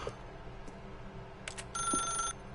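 Telephone ring in The Stanley Parable: a brief electronic bell-like trill, clear and fairly near, over a quiet room tone with no talking.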